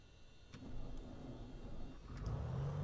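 A G36 Bonanza piston engine in Microsoft Flight Simulator starts up, a low rumble swelling and settling into a steady idle hum, with no talk.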